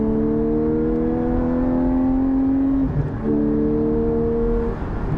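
A Porsche 718 GT4 race exhaust drones with a deep, steady hum at a constant pitch, dipping briefly once before settling back to the same even note.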